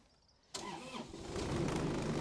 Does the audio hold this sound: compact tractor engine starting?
yes